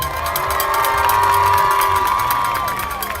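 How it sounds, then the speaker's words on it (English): A crowd fills the stadium at the Jesuit vs Folsom high school football game, with fans still arriving before kickoff. A loud, steady roar of cheering and shouting carries throughout, with a few sustained horn-like tones above it. "the crowd's still coming in, Will, as we're ready to roll here, and we said that we should get a capacity crowd"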